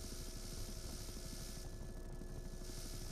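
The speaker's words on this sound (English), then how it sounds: "are you flying this helicopter right now?" Steady, droning helicopter rotor and engine noise from a video game, continuous and fairly close for the whole stretch with no voices over it.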